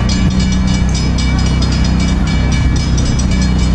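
Train passing at speed through San Juan Capistrano, a loud continuous roar and rumble of rail cars very close by throughout, with no talking.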